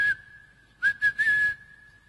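A referee-style whistle sounds as one steady, clear tone held for about two seconds, broken midway by a few short breathy bursts, with no talking.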